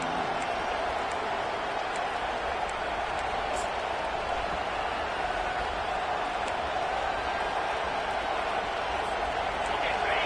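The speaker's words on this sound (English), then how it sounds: "They challenge this crowd to bring the energy, and I'd say they're doing that" Football stadium crowd at an Eagles game roaring and cheering in a steady, dense wash of noise that holds without a break, loud and distant-sounding, with a voice faintly underneath.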